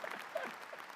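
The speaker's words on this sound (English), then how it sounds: "bit of applause" Brief, fairly quiet applause from a commencement audience at an engineering graduation ceremony, a steady patter of clapping with no voices over it.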